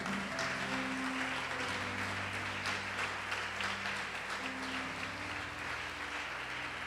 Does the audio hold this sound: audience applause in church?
yes